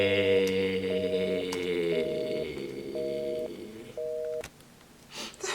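A telephone rings in a TV show, a repeated electronic tone in regular short bursts over a background music bed, then stops abruptly.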